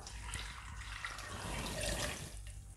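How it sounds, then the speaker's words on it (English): Water is poured into a blender jug, a soft steady splashing trickle that swells slightly midway, heard close and fairly quiet with no talking. "Now in goes water."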